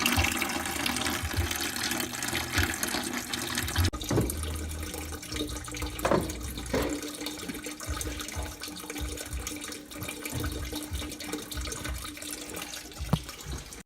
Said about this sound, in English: And we're just draining it into a bucket now.